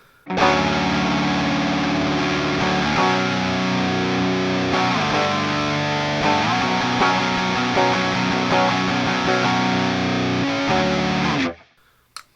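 A driven electric guitar through a Line 6 Helix amp modeler plays sustained, thick distorted chords, loud and close, with no voices, then stops abruptly near the end.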